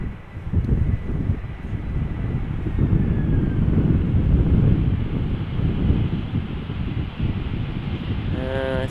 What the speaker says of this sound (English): This is an Airbus A320 Lufthansa arriving from Munich.